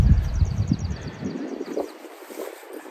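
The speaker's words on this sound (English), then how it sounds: "then this wind whipped back up" Gusty wind buffets the microphone in loud, rumbling bursts that ease off partway through, leaving a lighter, steady rush outdoors near beehives.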